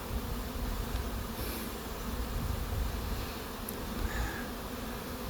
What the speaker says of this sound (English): Still a lot of bees in the air.